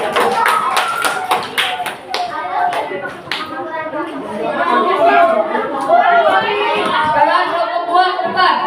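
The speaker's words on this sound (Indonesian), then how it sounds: "tepuk tangan buat kelompok 1." Schoolchildren in a classroom clap for a group of classmates, a burst of quick taps early that gives way to lively chatter and overlapping voices.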